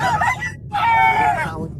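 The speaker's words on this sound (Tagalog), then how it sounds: "Tingnan natin yung mga manok naman dito, meron." Rooster crowing rings out loud and close in two bursts, a short call followed by a longer drawn-out crow, over a low background bustle at a bird market in Angeles City.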